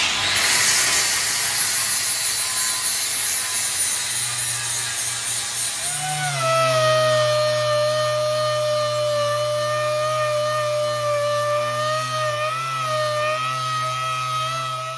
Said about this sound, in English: I'm just gonna quickly hit it with a flapper disc and smooth these welds out,